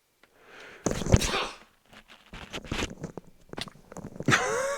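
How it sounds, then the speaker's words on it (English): A single loud, sharp sneeze bursts out close by, followed by some rustling and handling noises and a brief squeaky vocal sound at the end. "There was a brain rattler of a sneeze."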